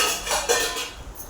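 Dishes, pots and utensils clatter and scrape during washing, a quick run of metallic clinks and knocks close by with a sharper clank near the middle, no voices.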